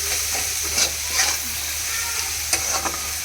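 Leftover rice with capsicum is stirred in a frying pan over a steady sizzle, with a few soft scraping strokes of the spatula close by.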